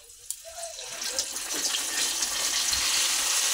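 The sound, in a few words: luchi dough frying in hot oil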